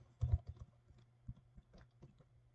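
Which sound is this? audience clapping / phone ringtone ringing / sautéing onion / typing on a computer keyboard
typing on a computer keyboard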